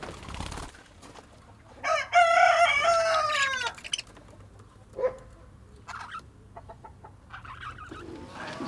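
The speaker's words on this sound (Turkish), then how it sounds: "Biz bu arada sohbet ederken bakın tavuklar şöyle dışarıda otluyor arkadaşlar." Free-ranging chickens grazing outdoors on a village farm, with a rooster crowing loudly near the start and hens clucking in scattered short bursts, close and clear, without talk.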